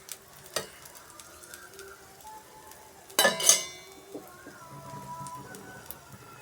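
Pesarattu, a moong dal dosa, frying in oil on a pan with a soft, steady sizzle, broken midway by a brief louder clatter and hiss.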